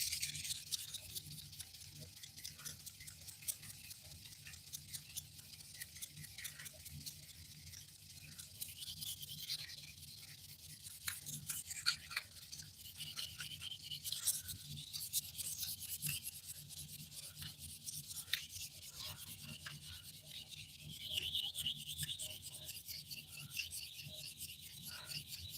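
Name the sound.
sanding with 400 grit sandpaper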